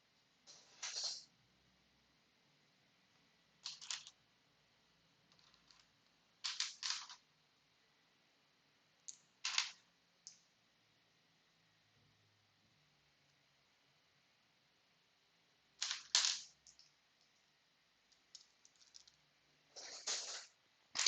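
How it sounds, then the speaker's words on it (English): LEGO Ninjago pieces being clicked together and shuffled around while sorting, bursts of small plastic clatter spaced out with quiet gaps between them, close and fairly faint. "I just love the sound of Lego pieces when you click them together, or when you move them around like this"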